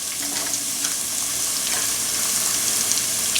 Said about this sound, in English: this now involves a bit of stirring of the paste